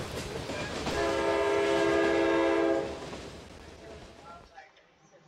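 A train in the video game Brick Rigs blasts a loud, sustained horn over rumbling wheels, then the sound fades away as the train moves off, with a voice talking over it.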